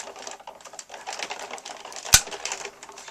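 A Spellbinders die-cutting machine with a nested butterfly die and plate makes a rapid soft clatter as the plates roll through, ending in one sharp close click.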